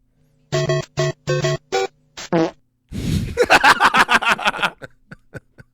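A recorded fart sound played on a podcast: a series of short buzzy toots, then a longer sputtering, rippling one, followed by quiet snickers and chuckles.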